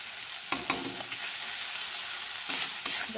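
Fish with salt, turmeric and mustard-poppy paste being stirred in a hot pan, a faint steady sizzle with a few sharp scraping strokes of the spoon.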